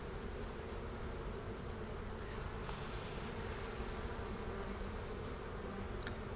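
Honeybees buzzing around an opened hive during a hive check, a faint, continuous, even drone with no voices.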